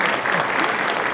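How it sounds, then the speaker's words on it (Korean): Congratulatory applause from the audience at a university graduation ceremony, a steady, dense wash of clapping that holds evenly throughout with no voices over it. "축하 박수 부탁드립니다."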